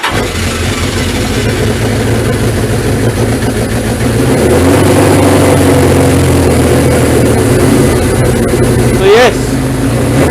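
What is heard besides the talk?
Suzuki GS 1000 motorcycle engine running, throttle adjusted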